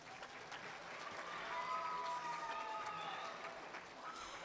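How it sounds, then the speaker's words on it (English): Quiet, distant audience applause at a school talent show, a steady wash of clapping from a crowd that swells slightly midway and holds for several seconds. "So please give all my committees a round of applause for all their work."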